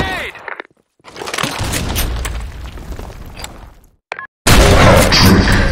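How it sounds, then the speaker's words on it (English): A grenade goes off in the video game Blackshot with loud, crunching blasts, and the roar breaks off into short silent gaps between the bursts. "Grenade!"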